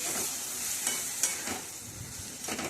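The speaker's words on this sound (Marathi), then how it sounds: "आता हे सर्व भाजीचं साहित्य चांगलं एकजीव करून घ्यायचं" Vegetable mixture with pigeon peas and brinjal stirred in a pan: quiet sizzling under a few scraping stir strokes at irregular intervals, close and soft, with no voices.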